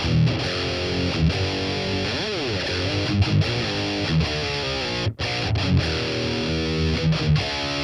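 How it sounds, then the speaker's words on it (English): An overdriven electric guitar plays a sustained, gritty riff with bending notes, loud and continuous throughout, through a BOSS Katana MK2 amplifier. "This adds the perfect amount of distortion on top of what was already there."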